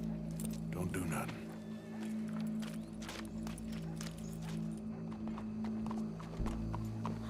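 Horse hooves clip-clop at a steady pace in Red Dead Redemption 2, joined by a low game hum, while voices talk intermittently over the sound.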